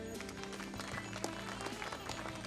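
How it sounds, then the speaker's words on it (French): Applause from an audience at a race award ceremony, a faint, distant patter of clapping spread evenly over a low, steady background hum. "On va l'applaudir pour l'accueillir."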